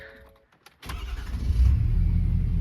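A Ford 6.7 Powerstroke diesel pickup truck engine cranks and catches after a brief starter whir, then settles into a loud, steady low rumble.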